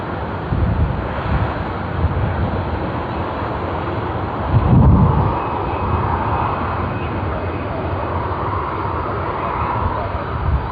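A Vietnam Airlines Boeing 787 takes off at Sydney Airport as a broad, steady jet roar with wind buffeting the microphone, loud and sustained throughout.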